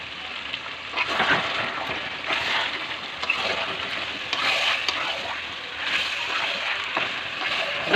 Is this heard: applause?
no